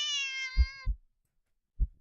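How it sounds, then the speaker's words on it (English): Large cat in a video game, a panther, gives one drawn-out harmonic meow, followed by three deep, low thumps. "The cat meows at you again"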